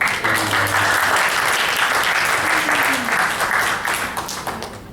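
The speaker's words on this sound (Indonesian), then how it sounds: "Ya, tepuk tangan dong." Audience applause fills the room in a steady, dense wash of clapping that holds loud throughout and fades slightly near the end, with faint voices mixed in underneath.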